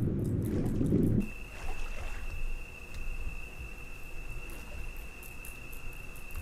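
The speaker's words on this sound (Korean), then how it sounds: "어디 벌레 소리가 들리는데, 그리고?" Night insects chirp steadily in the Bear Simulator video game, a soft continuous high-pitched tone holding under a quiet ambient bed after a brief louder low rumble at the start.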